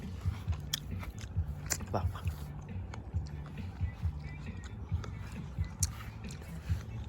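A crunchy mulberry fruit picked on a farm is bitten and chewed close up, with soft crisp crunches in an uneven rhythm over faint outdoor background noise.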